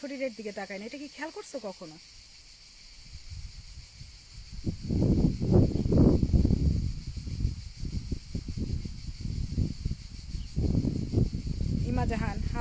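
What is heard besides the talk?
crickets chirping in a village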